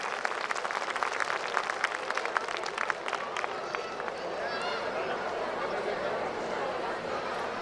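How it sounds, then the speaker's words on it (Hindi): A crowd at a school silver jubilee function applauds a children's performance, dense clapping that starts strong and fades into a softer sustained patter, with chatter in the hall. "मैं चाहता हूं कि एक बार आप सब इन सभी बच्चों की परफॉर्मेंस के लिए बहुत जोर से एक साथ ताली बजाएं।"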